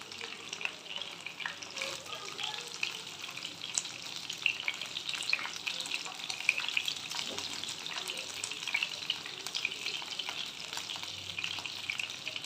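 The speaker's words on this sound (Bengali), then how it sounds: "আমাদের এক পিঠ ভাজা হয়ে গেছে, তাই উল্টে দিয়েছি। আর এক পিঠ ভাজা হতে দেব।" Lote fish (Bombay duck) fries in a pan, a continuous crackling sizzle with frequent sharp oil pops and light stirring, close and moderately loud throughout, with no talk.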